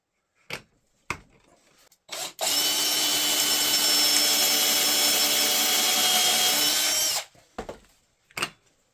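Power drill boring a pocket hole through a Kreg jig set to 1/2 inch for workshop shelves. Loud, steady high whine for about five seconds, with a few short bumps and clicks before and after.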